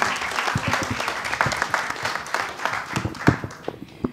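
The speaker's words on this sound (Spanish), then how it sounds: "un gran aplauso" Applause breaks out at a press conference in Mexico City, a dense burst of hand clapping from a room of attendees, fairly close and steady, tapering slightly toward the end.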